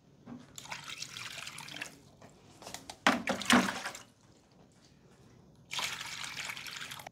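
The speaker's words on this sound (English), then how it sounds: "I'm gonna pour out this old water and replace it with a fresh 4 cups." Old water is poured out of a silicone 7x14 microgreens tray growing radish without soil, heard as several close splashing bursts and trickles separated by short pauses.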